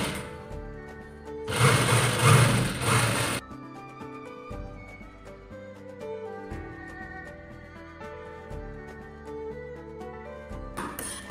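A sewing machine runs a straight seam along a chudidar salwar, a loud whirring burst of stitching for a couple of seconds, then quieter mechanical clicks and rhythmic ticking from the machine, with no speech.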